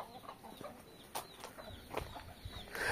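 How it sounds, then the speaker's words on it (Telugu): A Sithuva hen of the Peru kaki fighting chicken breed clucks on a breeding farm, giving a few soft, scattered clucks over quiet background noise. "ఇది వచ్చేసి సీతువ పెట్ట."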